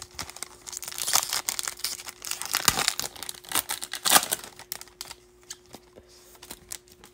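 Foil wrapper of a Topps Chrome baseball card pack being torn and opened, a close, busy run of crinkling and tearing with sharp rips, easing off toward the end.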